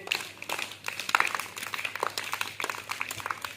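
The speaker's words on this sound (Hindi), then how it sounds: "और जरा दोनों हाथ ऊपर करके ताली बजाओ अपने लिए" A classroom of children claps together for themselves, a quick ragged patter of many small hands that runs steadily throughout, fairly close and unaccompanied by talk.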